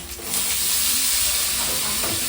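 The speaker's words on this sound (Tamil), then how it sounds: "வெங்காயம் நல்லா வதங்கிச்சு நான் தக்காளி போட்டுக்கிறேன்" Tomatoes hit sautéed onions in a hot pan, and a loud, steady hiss and sizzle rises sharply and holds close to the listener, with no talking.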